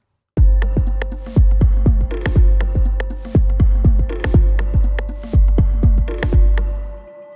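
Tabla sample played as a melodic sequence with a slowed attack and shifting pitch across two tones, in Electro, a series of repeated swelling hits with long reverb tails, loud and alone.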